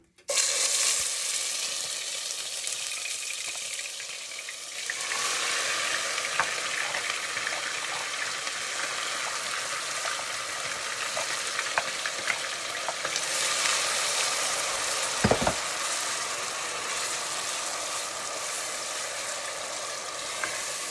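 Peppers frying in a pan give a steady, close hiss of sizzling that swells louder partway through, with occasional light stirring clicks and one brief thump, no talking.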